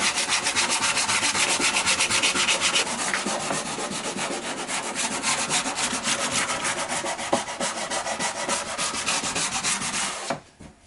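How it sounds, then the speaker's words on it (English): Grooved sanding block rubbed by hand along a wooden moulding for an elliptical tabletop, a continuous rapid back-and-forth scratching that stays loud and even, then stops abruptly near the end. "to smooth that out, I made this sanding block with a matching groove"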